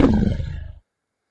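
A tiger in the browser game Shakes and Fidget lets out one loud, close roar that rumbles briefly and then cuts off abruptly into silence.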